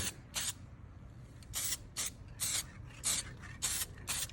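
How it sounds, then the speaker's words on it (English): Clear primer, made for bare metal or aluminium, sprays from an aerosol can onto a motorcycle engine in a series of short hissing bursts, about seven of them in a steady rhythm, close and loud against a quiet background. "So you spray it on, you just let it dry"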